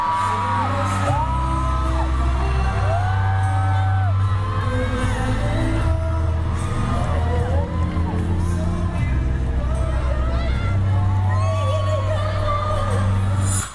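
Concert crowd screaming and cheering after an on-stage proposal, with sustained high whoops and yells, heavy bass thumps from the stage underneath, and bursts of louder shrieking that rise and fall throughout.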